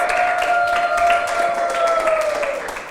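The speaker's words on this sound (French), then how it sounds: "On applaudit pour Joëlla et Ashley qui rejoignent leur place." An audience applauds children at a school holiday recitation event, a moderate, fairly steady round of clapping with a sustained tone running underneath, easing off toward the end.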